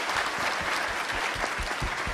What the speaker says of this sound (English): give ourselves, our speakers, a round of applause